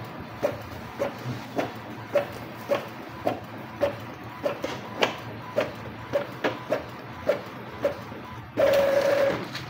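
An Epson printer running a job sent over Wi-Fi Direct, with a steady series of evenly spaced mechanical clicks and thumps from the print head over a low hum, ending in a louder sustained feed whir.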